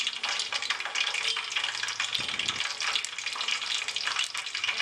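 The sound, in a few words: hibiscus petals sizzling in hot oil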